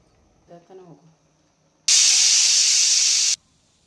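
Pressure cooker whistle on a stove while egg pulao cooks, giving one loud, steady steam hiss of about a second and a half after a brief spoken word, then cutting off sharply.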